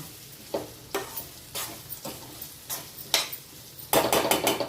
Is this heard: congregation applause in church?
no